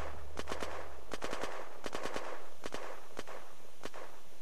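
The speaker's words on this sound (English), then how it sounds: "somebody shoots way over there, right there. Long distance away, you can hear it." Faint, distant gunfire from the video game Unturned, with several quick volleys of sharp cracks in irregular bursts, sounding far away and quiet.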